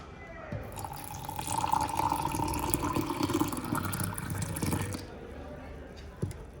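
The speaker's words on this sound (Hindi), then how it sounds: "तो अब मैं पानी ऐड करती हूँ इसमें।" Hot water is poured from a kettle into a cup of coffee mix, a steady close splashing and filling stream lasting about four seconds before stopping, with faint background noise.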